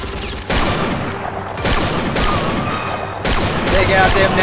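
Rapid bursts of rifle and machine-gun fire in a WW2 shooter, Combat 1944, with sharp repeated cracks close by and heavy gunfire layered throughout.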